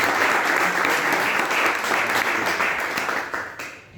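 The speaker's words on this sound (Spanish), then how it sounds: "Bríndele un aplauso al Rey de Reyes y Señor de Señores." A church congregation gives sustained applause to the King of Kings, full and steady for several seconds before it fades quickly at the close.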